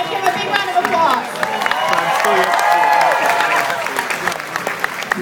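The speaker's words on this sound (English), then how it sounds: "Everyone may give him a big round of applause." A crowd at a cosplay craftsmanship competition at an anime convention applauds and cheers for a costumed contestant, with continuous clapping, whoops and crowd murmur.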